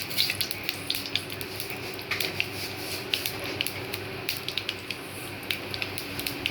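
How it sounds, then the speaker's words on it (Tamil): Mustard seeds sputter and crackle in hot oil at the start of a carrot and bean poriyal, a dense steady fizz broken by small sharp pops. "எண்ணெய் காய்ச்சிட்டு கடுகு போடலாம்"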